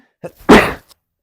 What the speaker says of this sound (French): Attends, j'ai éternué.